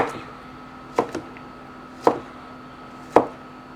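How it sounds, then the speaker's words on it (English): A knife chopping vegetables on a cutting board, four sharp, separate thuds spaced about a second apart over a steady low hum. "I'm chopping these considerably larger than I did the onion and the celery"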